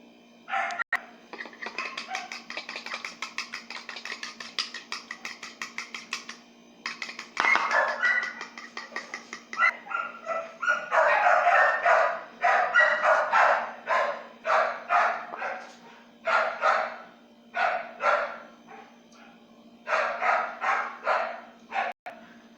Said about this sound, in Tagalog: maingay po yung aso